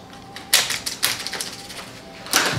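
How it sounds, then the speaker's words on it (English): Screen adhesive on an HP Envy dv6 laptop crackles and ticks as the display is pried loose, in several short bursts of close, brittle snapping separated by brief quieter gaps. "You can hear the adhesive in there."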